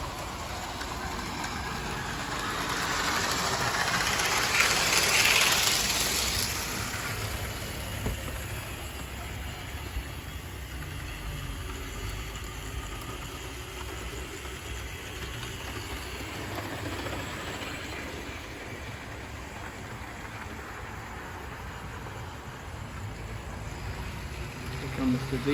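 A Hornby diesel multiple unit rail car and a Tri-ang Class 37 locomotive run on a model railway track, a soft continuous rolling rumble and faint hiss with a louder swell early on, while someone talks.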